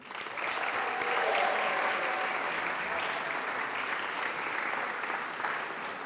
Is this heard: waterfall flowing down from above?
no